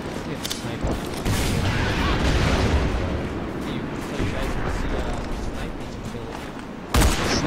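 Sniper rifle shots ring out in an Area 51 shooter game, sharp bursts standing above a dense, continuous wash of battle noise, with one loud crack near the end and voices talking over the mix.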